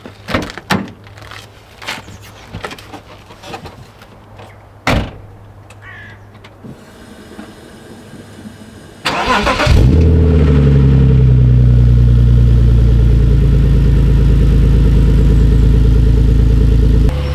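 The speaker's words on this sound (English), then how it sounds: "here's a cold start" A BMW E46 330Ci fitted with an M3 exhaust cold starts: a few clicks and thumps, the starter cranking briefly, then the engine catches with a sharp flare and settles into a loud, deep, steady high idle.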